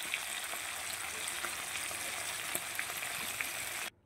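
Tangra fish fry in hot oil in a partly covered pan, a steady dense sizzle with small crackles and pops, continuous and close until it cuts off at the end.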